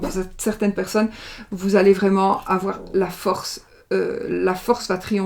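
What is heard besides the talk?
None of the usual background noises is heard.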